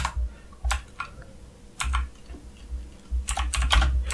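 Java code being typed on a computer keyboard: bursts of quick, close key clicks with short pauses between runs, crisp and fairly loud with no talking.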